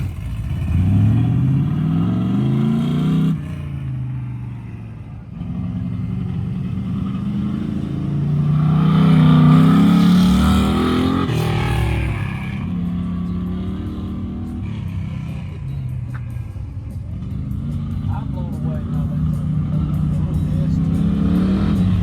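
A car makes autocross runs on a wet track at a GRIP Autocross event, its engine revving and accelerating loudly and steadily throughout, with pitch rising and falling between corners.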